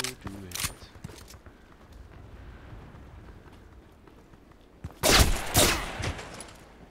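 Pistol shots in the first-person shooter game Contract Wars crack out in a brief burst at the start and a louder, denser volley near the end, over steady in-game background noise.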